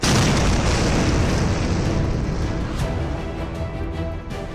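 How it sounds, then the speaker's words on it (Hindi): A heavy, rumbling blast from an explosion in a strike on a fighters' stronghold in Syria, loud and broadband at first and then slowly decaying into a rolling roar with faint crackles. "एक के बाद एक 7 ऐसे धमाके हुए कि धरती कांपने लगी।"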